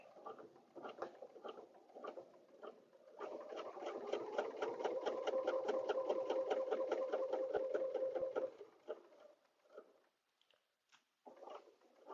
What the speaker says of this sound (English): Turn, lift your pressure foot, and turn and back up a couple of stitches, and then go forward.